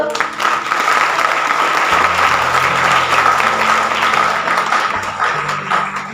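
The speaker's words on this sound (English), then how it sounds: "So please clap for her." Sustained applause fills a hall at a school meritorious award ceremony, loud and steady throughout, with low musical tones or hum beneath the clapping.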